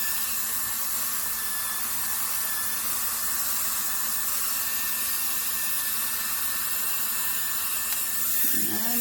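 Steady, even whine of a Dremel rotary tool shaping a polymer clay pendant, running continuously throughout at moderate level with no talking.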